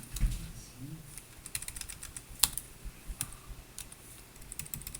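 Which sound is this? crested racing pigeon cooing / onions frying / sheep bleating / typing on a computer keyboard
typing on a computer keyboard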